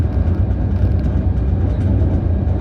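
Loud, continuous low rumble of a moving Howrah to Gudur train passing through Odisha in the morning, with a steady rhythmic clatter of wheels on the track throughout.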